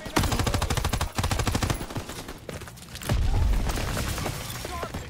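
Machine gun fire in Call of Duty WW2, heard as loud, close, rapid-fire bursts that pause briefly, followed by a heavy low boom and ongoing battle noise.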